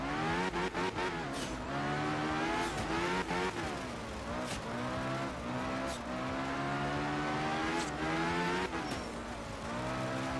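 Group B rally car engines rev hard in Art of Rally, a loud continuous roar with harmonics sweeping up and down through gear shifts and throttle blips, punctuated by short bursts and tire noise, no voices.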